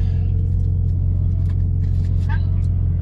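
Inside a car, a steady low engine rumble drones without pause, with faint scattered noises from the cabin over the hum.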